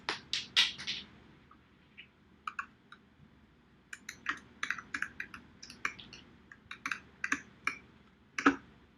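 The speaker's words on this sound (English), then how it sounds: "Whose keyboard is that?" Someone types on a computer keyboard in a steady run of crisp, close keystrokes, starting with a quick flurry, pausing briefly, then resuming with an uneven rhythm that continues to the end with no talking.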